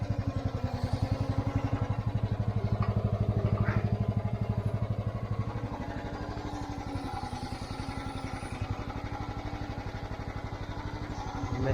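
A Mygale 600 micro excavator's small engine runs close by with a fast, even, chugging idle pulse, steady throughout with slight changes in intensity and faint background clatter.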